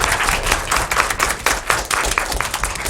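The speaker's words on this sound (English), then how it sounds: "I just want to have a round of applause for each," An audience at a high school Knowledge Bowl event gives a round of applause for a school, with dense, steady clapping from many hands close by and no talk.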